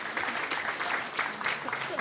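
Applause from an audience at a California legislative speech, a dense rush of many hands clapping that stays steady and fairly loud throughout, with voices mixed in.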